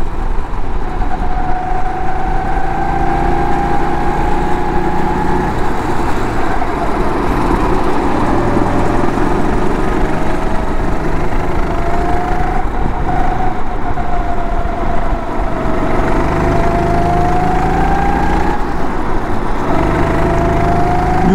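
A go-kart engine on an outdoor track drones steadily for about twenty seconds, its pitch rising and falling as it accelerates and slows through corners, loud and close with no talking.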